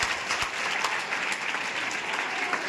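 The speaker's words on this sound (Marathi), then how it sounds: "टाळ्या वाजवा" An audience claps together at a session after a 63.5 kg figure is announced, a dense, steady burst of applause lasting under three seconds with no voices over it.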